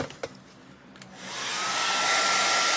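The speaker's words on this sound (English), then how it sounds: "And I'm going to just like blow dry this a little bit." A blow dryer drying acrylic paint on a palette-knife painting starts up after a few faint clicks and settles into a loud, steady whooshing hiss that fills the rest of the clip.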